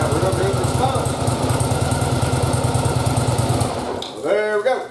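A 1992 motorcycle engine runs steadily with a fast, even pulse after carb boot replacement, then fades as a voice speaks briefly at the end.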